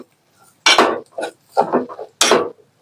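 Metal tongs clank and scrape against a pan while stirring rice for kheer, four or five sharp, close bursts separated by short silences.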